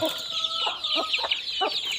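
Domestic chickens, home-bred hens with a large brood of chicks, cluck in short repeated bursts at close range, with steady high chirping from the chicks running underneath throughout.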